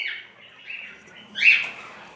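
Pet lovebird pairs, lutino and yellow-face harlequin, give thin high chirps and squeaky calls close by, with a louder burst of calling near the middle.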